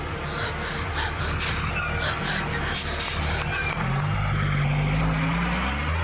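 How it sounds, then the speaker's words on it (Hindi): A truck rumbles close by on a street, its low engine drone steady and loud, with a deeper tonal whine rising near the end as it pulls past; voices speak briefly in the background. "चलो भाई, ट्रक जाने दो।"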